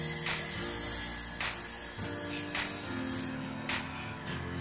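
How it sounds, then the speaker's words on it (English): An OPULENT beauty airbrush machine sprays makeup onto a tissue, giving a steady close hiss with a few short, slightly louder bursts. "Continue on spraying lang mga bed."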